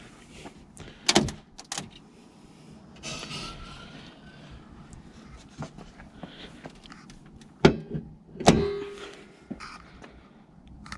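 Hood of a 2011 Mitsubishi Evo X GSR being closed: sharp metallic thumps and clunks, two loud impacts late, amid quieter handling noises close by.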